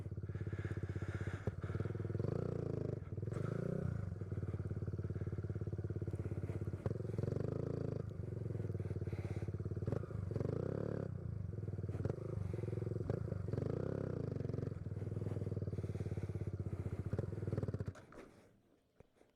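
Kawasaki Z125 Pro motorcycle engine during wheelie practice, a steady close buzzing idle and revving with shifting pitch and a few clunks, running continuously before cutting off near the end.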